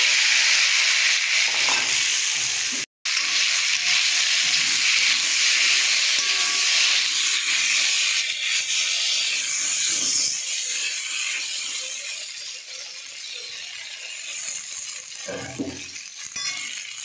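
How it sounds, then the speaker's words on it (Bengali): Okra (bhindi) fries in a pan with a steady, loud, hissing sizzle that runs almost unbroken, cut by one brief dropout early on and easing slightly toward the end. "এবার আমি এই ভিন্ডিটা ভাজা করব।"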